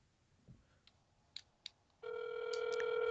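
A telephone ringback tone during an outgoing call starts as a steady, sustained electronic tone after a few soft clicks and blips, fairly quiet and alone.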